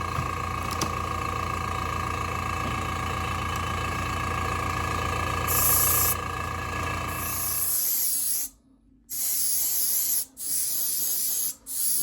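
Steady airbrush or spray-gun hiss laying a first coat of paint on a Monsters in Motion Hunchback of Notre Dame model, continuous at first, then short bursts broken by brief pauses.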